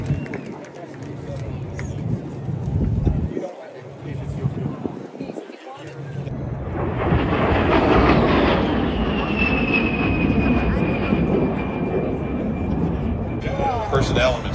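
A U.S. Air Force transport airplane at an air show passes overhead, its engine roar swelling from a quieter start into a loud sustained drone with a whining tone, with a voice talking over the early part.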